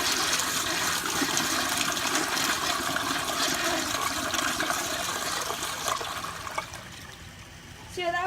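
A Crane Placidus toilet flushes with a loud, close rush of water that holds steady for several seconds, then fades to a gurgling trickle as the tank drains.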